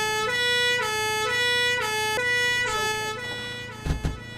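An ambulance siren in the Emergency 4 video game with the Kent Modification wails in a steady repeating two-tone pattern, loud and close, then cuts off and is followed by a few brief thumps.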